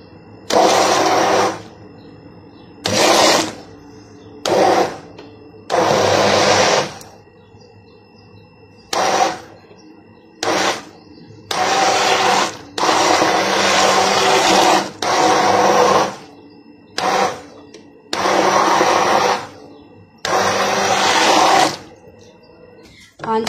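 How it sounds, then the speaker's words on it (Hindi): Soaked wheat and chicken for haleem churned in an electric blender, running in repeated short loud bursts separated by pauses, with a voice talking between some pulses. "चिकन के गलने तक जितना हम इसे ब्लेंड कर देते हैं।"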